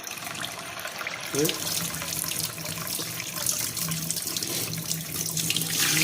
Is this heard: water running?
yes